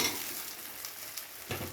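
Fried pointed gourd going into a pan of oily, well-cooked spice paste, giving a quiet, steady sizzle with a couple of brief louder crackles as the pieces land and are stirred.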